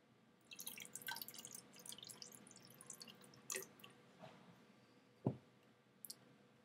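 Water trickles and drips into a graduated cylinder in a lab setting, faint scattered splashes and clicks with a few sharper drops, quiet and close.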